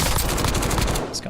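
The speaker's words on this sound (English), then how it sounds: "I'm getting shot at from somewhere else" Rapid automatic gunfire aimed at the player in the Warzone video game, a dense close burst of overlapping shots that cuts off abruptly.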